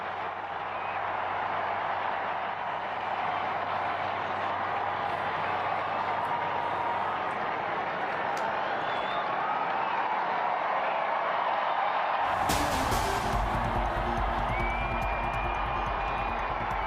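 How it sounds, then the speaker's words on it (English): Crowd in St. Peter's Square at the Vatican awaiting the new Pope, a steady roar of distant massed voices and cheering that swells louder and fuller near the end. "you hear the cheering from the Vatican"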